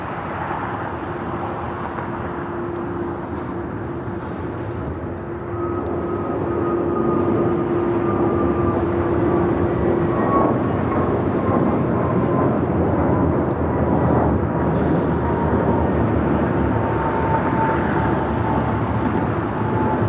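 A United Airlines Boeing 757-300 at Los Angeles LAX airport, heard as a loud, steady jet engine roar with a droning tone that swells and holds for twenty seconds.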